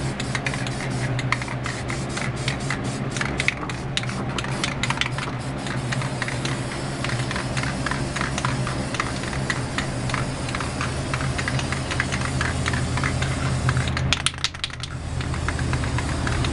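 A spray paint can hisses almost continuously, with dense crackly spatter and rapid clicking textures throughout, dropping briefly near the end before resuming loud and close.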